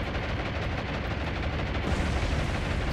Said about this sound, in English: Torpedo hit on the battleship.